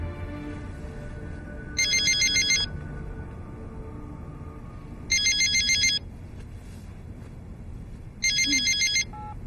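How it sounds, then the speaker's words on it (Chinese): A mobile phone ringtone plays in three loud, identical electronic bursts about three seconds apart, with a quiet indoor room tone between them. "不是我电话，是你电话。"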